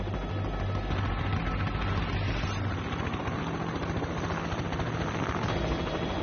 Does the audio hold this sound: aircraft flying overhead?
yes